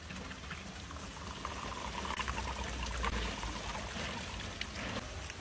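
Water poured into a container while making a party drink with ice for a posada, a steady bubbling, trickling flow that runs continuously and fairly loud throughout with no talk.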